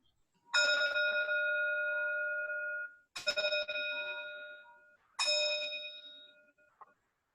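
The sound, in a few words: meditation bell rung at a Buddhist service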